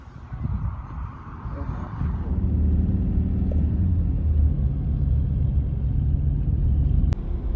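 A car drives along a road, a steady low engine rumble and road noise that builds after the first couple of seconds and holds constant. A brief click comes near the end.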